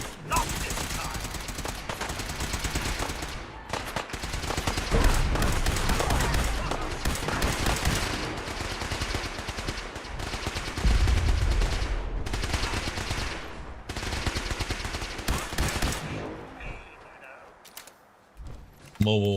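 Automatic machine gun fire from a mobile weapons platform in Fallout 4, dense repeated bursts running almost continuously and loud, with a sharp final burst at the end.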